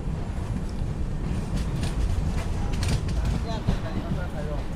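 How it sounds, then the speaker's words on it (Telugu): The Sairang to Kolkata express pulls into Hojai station with a steady heavy rumble, grinding wheels and faint metallic clanks, close and continuous, while people talk nearby. "సో మన ట్రైన్ వచ్చేసి హోజాయ్కి అయితే రీచ్ అయింది."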